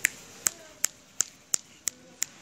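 One person claps alone in a room, seven sharp, evenly spaced claps in a steady rhythm, each crisp and close with quiet gaps between.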